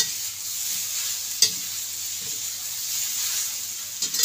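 Asafoetida is sprinkled into hot oil while arbi leaves cook, giving a continuous soft sizzle of frying with occasional stirring scrapes and a couple of sharp utensil clicks, close up and alone.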